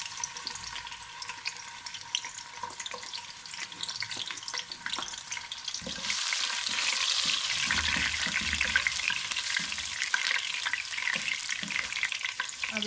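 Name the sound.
ginger and garlic frying in oil in a kadai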